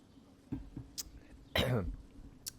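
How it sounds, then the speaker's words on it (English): A person coughs and clears their throat in several short, rough bursts, with one louder hacking cough in the middle, over quiet background sound. "Sorry for the coughing."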